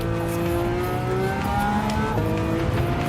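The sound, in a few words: Lamborghini Countach engine in video game Gran Turismo 7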